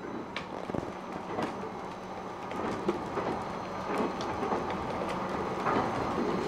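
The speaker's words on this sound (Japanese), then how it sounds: "床下からバリバリバリバリという音がします。" A Japanese train on a snowy line between Gunma and Niigata rolls along as snow crackles and rattles against the wheels beneath the floor, giving a continuous, gritty crunching over the steady rumble of the carriage.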